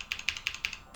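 Tactile plastic buttons on a DaVinci Resolve Speed Editor control panel clicked in a quick, even series of about eight sharp, close clicks, with no talking.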